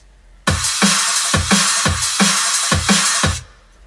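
Full electronic drum pattern from a producer's track, a shuffling breakbeat layered with cymbals and crash hits, playing loud and alone in repeated bars with punchy low kicks for about three seconds before stopping.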